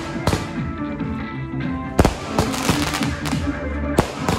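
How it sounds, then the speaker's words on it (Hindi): Firecrackers bursting at a traditional Assamese wedding as the groom's procession approaches: sharp, loud cracks at irregular intervals, several clustered bangs, over a steady background of crowd noise and music. "दूल्हे का ये पटाखा फटफोड़ रहा है ना, तो अभी दूल्हा आने वाला है"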